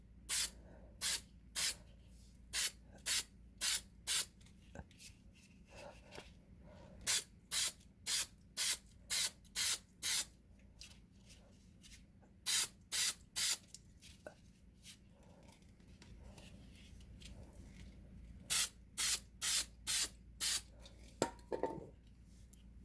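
Short bursts of spray adhesive applied as a light coat to a part of a classic SN95 Ford Mustang race car in a cold work area, about two dozen hisses in quick clusters with brief pauses between.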